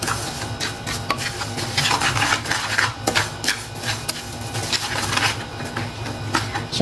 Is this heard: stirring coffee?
yes